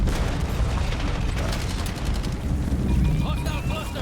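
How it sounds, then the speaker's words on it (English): Grenade explosions and rapid gunfire in Black Ops 7 crackle and thump in a dense, loud barrage of overlapping shots and blasts, with game voice callouts mixed in beneath the chaos. "Bro, the nade spam is insane."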